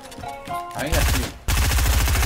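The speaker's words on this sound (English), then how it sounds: "Stop shooting at Ali, virgin." Rapid automatic gunfire in a video game, dense repeated shots in two sustained bursts after a brief lull with game effects, loud and close, with a voice heard early on.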